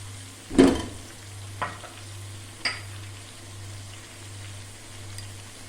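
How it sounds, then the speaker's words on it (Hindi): Spice masala with tomatoes, salt, coriander powder and garam masala frying in a pan for Hyderabadi bhindi gosht. A soft, low sizzle runs underneath, broken by three distinct scraping stirs of the spoon. "अब ये सारी चीज़ें मिक्स करेंगे और मसाले को अच्छा सा फ्राई करेंगे टमाटर बारीक होने तक"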